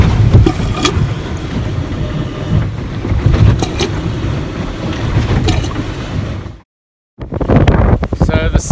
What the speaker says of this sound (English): The waves are pushing at the side of the boat here.